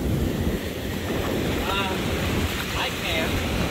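Ocean waves wash onto a beach in a steady, broad roar, loud and close, with wind buffeting the microphone and faint voices now and then in the background.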